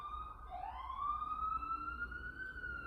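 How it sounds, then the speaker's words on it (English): A single emergency siren wails and sweeps upward as a vehicle passes at a distance, fairly faint, over a quiet room. "letting the siren pass in the background"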